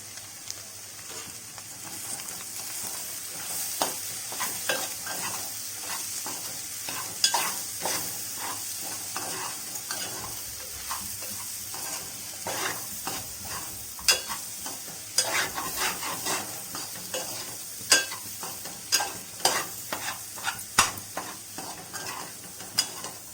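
Spicy potato samosa filling sizzles in a pan while being stirred with chilli powder and salt, with repeated scraping and tapping of a spoon against the pan over a steady frying hiss.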